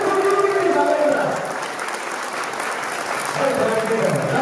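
Guests at a Kazakh wedding celebration clap loudly and continuously, a dense crowd patter over voices talking and calling out throughout.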